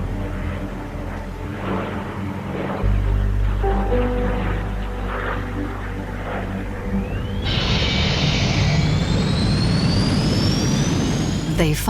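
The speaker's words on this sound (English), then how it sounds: "They finally let me fire up the jet engine." Vampire Mistral jet engine spooling up: a low rumble under speech gives way to a loud rising whine with climbing tones and a steady roar, close and powerful.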